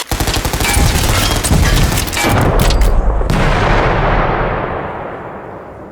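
Dense battle sound effects of shooting and blasting as Ork pilots attack a big walker in a GrimDark Future tabletop battle: a continuous loud barrage of rumbling gunfire and booms that fades into a lingering roar, with no voices.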